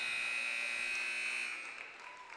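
Loud sustained electronic buzzer at the end of a quarter in a girls' high school basketball game in a gym, a steady tone that fades slightly near the end with no talk over it.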